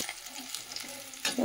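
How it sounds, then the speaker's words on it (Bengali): Fish frying in hot oil gives a steady, close sizzle that swells into a louder, harsher crackle in the final moments. "দেখো মাছটা তো ভাজা হয়ে গেল, এই যে তুলে নিচ্ছি মাছটা"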